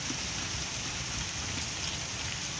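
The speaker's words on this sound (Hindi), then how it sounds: "हाले तक उस तरीके ने बड़ी तेज़ बारिश होनी पी" Heavy rain pours in Chattroh, Dadyal, Azad Kashmir, a dense, steady wash of falling water on surfaces, close and continuous with no talk.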